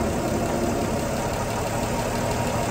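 A car engine idles steadily in park while its drive shaft spins, a continuous, close, even rumble with no voices.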